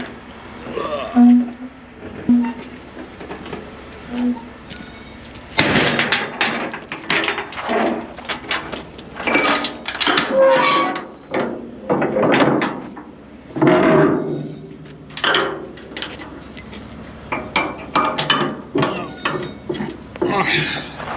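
A large dump trailer's back door is swung shut outdoors, giving a run of creaks, metallic clanks and rattling latch knocks of varying loudness over about twenty seconds, fairly close.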